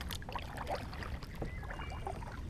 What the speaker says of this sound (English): I'm not really paddling like I was before, but you'll hear me